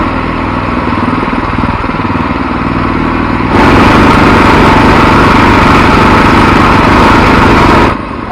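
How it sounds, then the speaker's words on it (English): A Harbor Freight 424cc inline twin engine runs at half throttle as a loud, steady mechanical drone that swells louder partway through and eases off just before the end. "Now it's time to run them an hour at half throttle."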